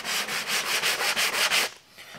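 Light hand sanding over plywood sealed with S1 epoxy, a steady rhythmic scrape of about nine quick back-and-forth strokes, close and fairly loud, ending abruptly into quiet.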